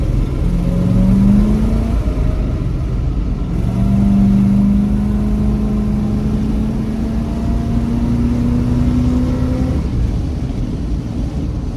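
A 1984 Chevrolet Suburban engine revs up loudly and repeatedly as its slipping transmission lets the pitch climb and sag, heard close with steady road noise and no talking.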